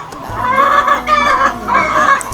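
Free-range farm chickens cluck close by in repeated bursts of squawks and calls, loud and steady over the whole stretch with no talking.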